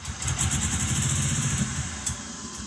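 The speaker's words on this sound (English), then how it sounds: "It was running though, and you could hear the turbo spooling up." A GMC Typhoon that sat unused for 21 years runs with a loud, steady engine roar close by, and its turbo gives a high whine above the engine throughout.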